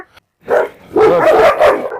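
A pack of large dogs, including a Kangal and a Cane Corso, barks and yelps in overlapping loud bursts at close range, with a short quiet gap before the commotion.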